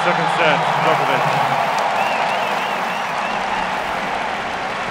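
A large tennis crowd applauds Djokovic winning the second set of a US Open final against Nadal, a dense, loud, steady wash of clapping and cheering that fills the stadium throughout with no pause.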